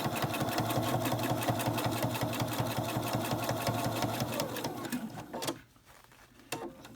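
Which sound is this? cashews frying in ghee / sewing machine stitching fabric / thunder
sewing machine stitching fabric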